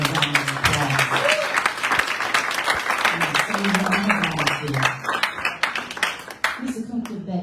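An audience at a human and civil rights town hall meeting in DC claps for a young man, sustained applause running alongside a voice speaking over it before it thins out near the end.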